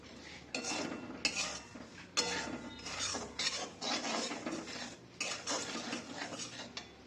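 Semolina stirred in a metal wok, with close, busy scraping and clattering of a utensil against the pan in repeated bursts and brief pauses between them.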